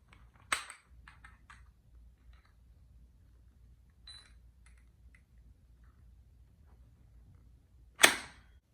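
A cartridge is pushed into the chamber of an FG42 rifle and the bolt rotated shut: two sharp metallic clacks, one near the start and one near the end, with faint small handling clicks between them in a quiet room.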